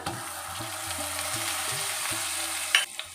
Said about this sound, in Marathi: आपल्याला हे परतवून घ्यायचं आहे